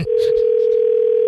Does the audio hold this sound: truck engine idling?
no